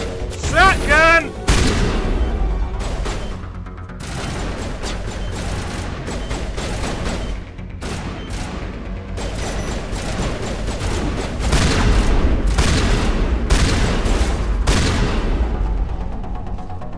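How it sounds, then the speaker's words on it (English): Repeated shotgun blasts ring out in Mass Effect Legendary Edition combat, loud sharp booms fired in quick irregular bursts over about seventeen seconds, mixed with other battle noise and voices. "Shotgun!"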